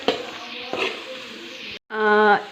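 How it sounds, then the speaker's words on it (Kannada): Finely chopped ginger sizzling in hot oil in a pan while gobhi manchurian is cooked, a steady frying hiss with brief stirring knocks, a short gap, then a louder burst of sizzle. "ಇವಾಗ ನಾನು ಇದಕ್ಕೆ ಶುಂಠಿನ ಸಣ್ಣದಾಗಿ ಹೆಚ್ಚಿಟ್ಕೊಂಡಿರೋದನ್ನ ಹಾಕೊತಾ ಇದ್ದೀನಿ ಇದನ್ನ ಒಂದು ಟೂ ಸೆಕೆಂಡ್ ಫ್ರೈ ಮಾಡಿದ್ರೆ ಸಾಕು"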